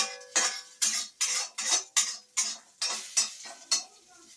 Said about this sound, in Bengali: রাঁধুনিটা একটু ভাজা ভাজা হয়ে 1 থেকে 2 মিনিট একটু ভাজা ভাজা হবে